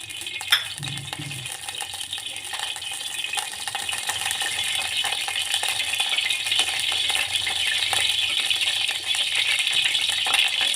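Oil heating in a hot pot on a gas stove, a thin continuous hiss and faint crackle with a few small metallic clinks near the start.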